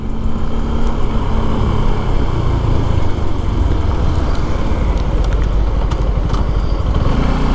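Suzuki Gixxer SF250 motorcycle engine, a loud, steady, close rumble held throughout with no voices.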